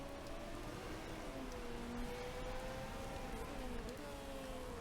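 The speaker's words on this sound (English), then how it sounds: "Last minute rain." Steady broadband hiss of rain in the racing management game Motorsport Manager, continuous and even throughout, with faint tonal engine-like lines running underneath.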